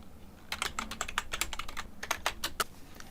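Text is typed on a computer keyboard in a quick, uneven burst of close key clicks with brief pauses, alone without talk.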